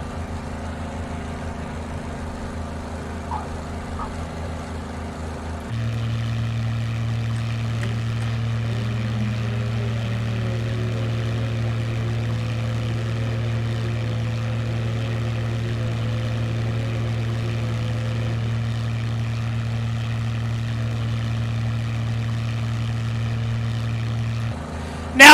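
A simulated P-40 Tomahawk propeller plane runs up and takes off in Microsoft Flight Simulator, a steady droning engine hum that jumps louder partway through and holds constant.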